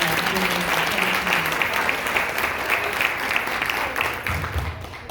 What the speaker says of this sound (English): A round of applause for Tara Snow.